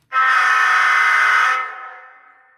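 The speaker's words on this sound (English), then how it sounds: "Horn for the Pennsylvania Keystone." A loud, sustained electronic horn blast from a Bowser HO scale Alco RS3 model locomotive in Pennsylvania Keystone livery, with a bright, buzzy chord, holding steady for over a second before tapering off into a fading tail.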